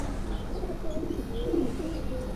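Breeder pigeons at a fancier's home coo softly in a few low, rolling calls close by, over a steady background hum.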